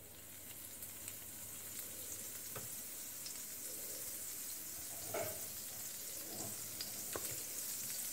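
Butter melting in a pan before a ladle of batter goes in, giving a steady soft sizzle and frying hiss with a few faint clicks of utensils, alone and with no talk.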